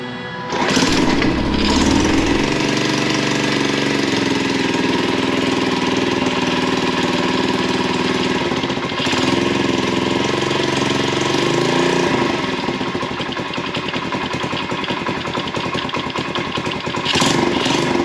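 A motorcycle engine runs close by for the whole stretch, a loud steady idle with a revving swell early on and a few shifts in pitch, a continuous mechanical throb without speech.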